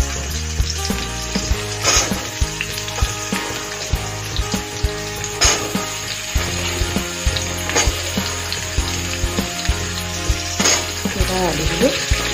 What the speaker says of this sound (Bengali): এবার আলুগুলো একটু ভাজা হোক,